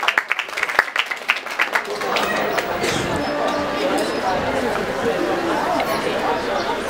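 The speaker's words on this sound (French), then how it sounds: "Applaudissez-vous" Broad, steady applause from a student audience at an integration-day event, preceded by a few loose claps and chatter, then swelling into continuous dense clapping for several seconds with voices mixed in.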